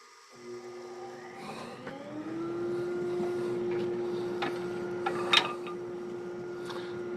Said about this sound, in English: Dust extractor.